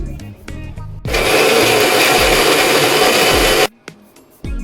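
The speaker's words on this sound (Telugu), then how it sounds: "మిక్సీ పట్టుకొనేసి తిరగవాత పెట్టుకుంటే ఎంతో రుచికరమైన ఎర్రని కారం రెడీ అండి" A mixer grinder grinding dried red chilies roars loudly for about two and a half seconds, bracketed by clattering taps and rattles of dry contents before and after.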